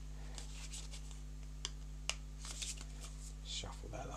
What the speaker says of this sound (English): Give these a bit more of a shuffle.